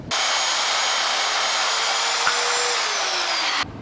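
A power saw cuts a wooden table leg to length against a guide, a loud, steady whirring whine that holds for about three and a half seconds, dips slightly in pitch near the end, then cuts off abruptly.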